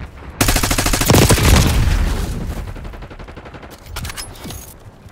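Automatic weapon fire in Call of Duty: Black Ops 6 multiplayer, loud close rattling bursts that start abruptly, fade into echoing tails, and return as a shorter second volley near the end.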